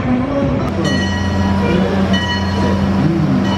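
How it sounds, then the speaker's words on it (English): An amusement park ride train at Six Flags Over Georgia rumbles steadily close by, with low engine drone and some metallic tonal whines, continuous for a few seconds. "here's the train. It's coming."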